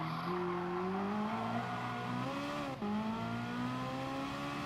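A race car engine screams through a race at Autodrome Lago Maggiore in a racing video game, the pitch climbing steadily, dipping briefly on a shift or lift and then rising again, loud and continuous.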